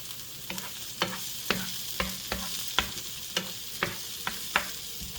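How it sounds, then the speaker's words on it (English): Onions fry and brown in a pan under a soft background sizzle, broken by a regular series of sharp spatula scrapes and taps about every half second. "the onions are just starting to brown"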